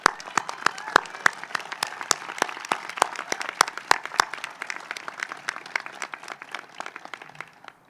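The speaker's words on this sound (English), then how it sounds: "I'd ask you to join me in a round of applause for the entire graduation committee." Audience at a graduate school commencement ceremony claps steadily for the graduation committee, many sharp individual claps standing out from a dense applause that slowly thins toward the end.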